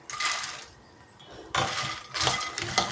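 Fox nuts (makhana) tossed in hot ghee in a kadai, giving bursts of clattering, scraping metal-on-metal stirring with a quieter pause in the middle, close and fairly loud with no talk.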